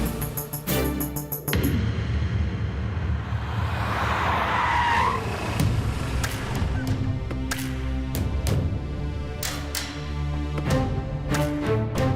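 A car pulls away with loud tire squeal and skidding, the screech building and sweeping past close by, with engine roar and scattered sharp knocks and thumps in a dramatic scene.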